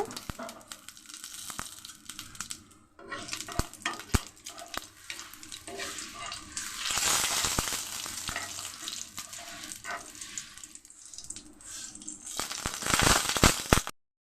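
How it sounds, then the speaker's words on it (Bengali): Whole cumin, cardamom, cinnamon and bay leaf frying in oil as a tempering for a Bengali curry, an uneven crackling sizzle with scraping stirs and some water or clatter sounds, swelling louder near the end, without talk. "ফোড়নটা আমার ভাজা হয়ে গেছে"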